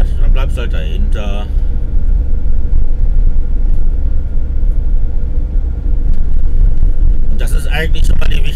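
Steady car road noise from inside a moving vehicle, a constant loud low rumble throughout, with brief speech at the start and near the end.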